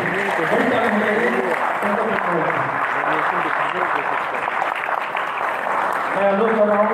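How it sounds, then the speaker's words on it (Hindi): Audience applause fills a theatre felicitation for a stage actor, a dense steady wash of clapping from a large crowd lasting throughout, with voices or music faintly mixed underneath. "बड़ी ताली, बड़ी ताली।"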